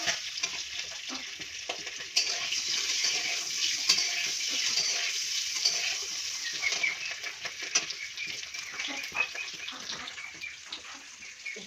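Egg curry with potatoes fries and gets stirred in a pan, a continuous bright sizzle with frequent scraping and clinking of a spoon, moderately close and without talk.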